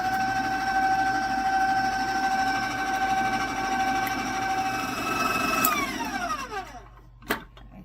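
Electric hand mixer beating cheesecake batter in a bowl, a steady close whirring drone with a high whine that winds down and stops near the end, followed by a brief clunk.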